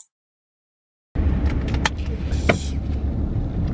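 Inside a car moving with a family aboard, a steady low road rumble and engine hum begin after a second of silence and continue with a few brief clicks and rattles.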